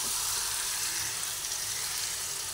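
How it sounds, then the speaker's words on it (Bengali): Chicken pieces frying in hot oil over a medium gas flame while being stirred, for chicken pulao, giving a steady, close, hissing sizzle that holds evenly throughout. "মাংসটা তেলের মধ্যে দিয়ে দিলাম। এরপরে একটু ভালোভাবে নাড়াচাড়া করে নিচ্ছি।"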